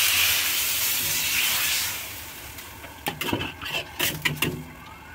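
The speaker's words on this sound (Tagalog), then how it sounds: "at lagyan ng tubig." Water poured into a pan of sizzling beef curry sends up a loud rushing hiss of steam that fades over a couple of seconds, followed by several close clattering knocks of cookware.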